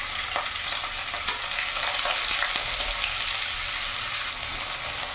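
Chopped onions frying with garlic in a pan, a steady hiss of sizzling with occasional stirring scrapes and small crackles throughout.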